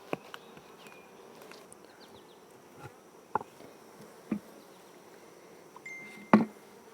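Soft steady buzzing of honeybees around an open hive during an inspection fills the background, with a few brief louder passes of bees flying close by and occasional small clicks.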